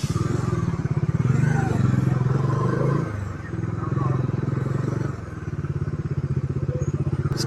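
Bajaj Dominar 400 motorcycle cruising at around 70 to 80 km/h on a winding hill road, its engine a steady, loud low thrum with dense pulsing texture and wind rush, dipping slightly a few times.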